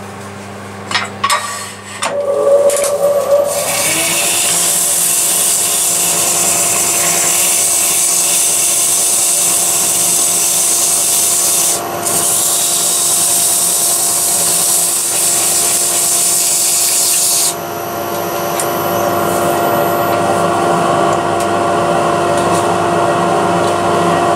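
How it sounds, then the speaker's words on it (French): Continuous abrasive whirr of a power sander working a wooden boule, starting after a few brief knocks and running loud and steady, then shifting pitch slightly near the end. "Je vais poncer maintenant."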